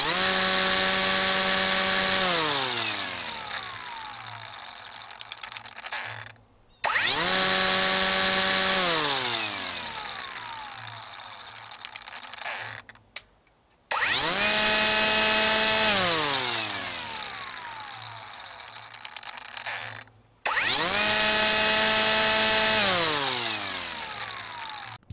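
A cordless string trimmer revs four times, each run starting with a steep high-speed whine that slowly sags toward a lower pitch, with short pauses between bursts. The motor is close and loud and runs on its own.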